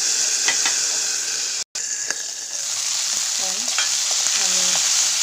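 Ginger paste and panch phoron spices fry in hot oil with a constant close hiss, punctuated by stirring clicks and scrapes and a brief dropout partway through; no speech is heard.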